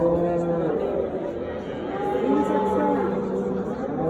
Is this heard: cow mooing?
yes